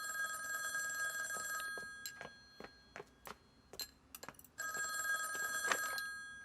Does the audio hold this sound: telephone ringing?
yes